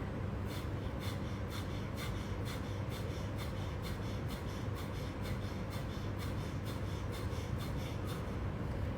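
Forceful, rhythmic nasal exhalations during a yoga breathing exercise, short sharp puffs repeating about twice per second over a steady background, with no talk.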